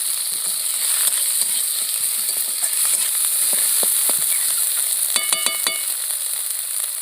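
Chopped tomato frying in a pan with small fish and potato, a steady bright sizzle with occasional stirring scrapes and clicks, close and loud with no talking.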